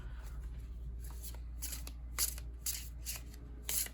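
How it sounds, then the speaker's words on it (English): An indie Marygold Tarot card deck is shuffled by hand: quiet, quick papery riffles and slides come in uneven bursts, close up. "This is not my preferred method of shuffling."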